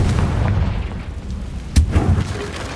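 Spell explosion from a wizard video game, a single sharp burst with a short rumbling tail, heard over a steady dense game ambience and followed by a couple of smaller thuds.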